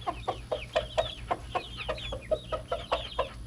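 A flock of chickens clucking steadily, with new birds being introduced to an established flock: rapid, rhythmic clucks about three per second, moderately close over a constant low hum.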